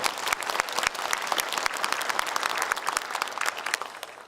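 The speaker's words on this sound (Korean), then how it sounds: "박수 한번 주시기 바랍니다" An audience at a book concert for a mayoral candidate gives a burst of vigorous applause, with crisp, closely packed claps that stay strong throughout.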